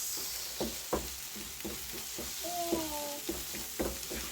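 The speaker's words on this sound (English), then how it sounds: "Stir it so that the egg will be so small, in small pieces." Eggs for an egg-and-spinach stew sizzle steadily in a frying pan while a utensil stirs them into small pieces, with repeated scraping strokes and a few clinks over the constant hiss, close and fairly loud.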